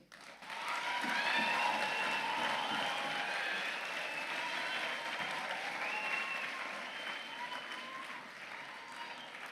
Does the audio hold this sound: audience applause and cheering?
yes